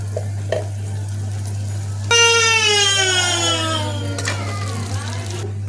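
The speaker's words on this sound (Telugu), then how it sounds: "ఇప్పుడు కారం వేసి కలిపిన" Chili powder is stirred into food frying in a pan, giving a brief sizzle and scraping over a constant low hum, and a sharp whistle-like tone bursts in midway and fades off.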